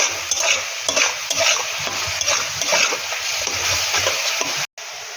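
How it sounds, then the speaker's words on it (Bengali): Turmeric, chili and cumin powder are stirred in a hot pan while cooking fish-head moong dal, with repeated scraping stir strokes over a crackling sizzle, close and fairly loud. "হলুদ দিয়ে দিলাম, লঙ্কার গুঁড়ো দিলাম, একটু জিরে গুঁড়ো, ভালো করে নাড়াচাড়া করব"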